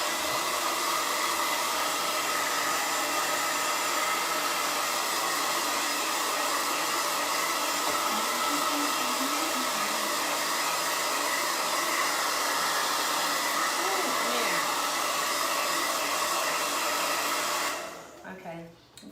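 A hair dryer blows steadily on wet gold and maroon paint on a sign, a loud continuous whirring hum that runs unbroken for most of the stretch before cutting off at the end.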